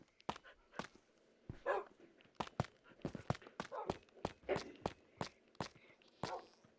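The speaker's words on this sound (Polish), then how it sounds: "Tutaj. Psy." Dogs in an enclosure at an animal park bark a few times at moderate distance, while close, crisp footsteps tap along steadily in the foreground.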